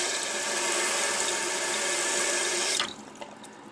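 A Mansfield toilet with a leaking flush seal valve refills with a steady, loud rush of water into the tank that cuts off abruptly near the end, leaving a faint trickle and drip.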